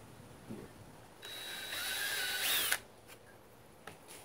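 A power drill pre-drills a hole in a wooden board for a tomato trellis, a rising whine lasting about a second and a half, close but fairly quiet, followed by a few small clicks.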